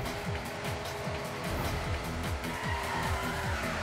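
A race car in the arcade-style video game Hot Shot Racing, its engine revving steadily with rapid repeated gear-shift sweeps under a dense, loud game soundtrack with no talk.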